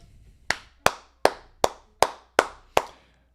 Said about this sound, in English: As you just heard, I'm clapping it up for you.